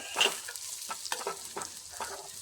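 Chopped garlic pieces hitting hot oil, giving a faint, quiet sizzle with a few soft stirring scrapes and small crackles over a couple of seconds.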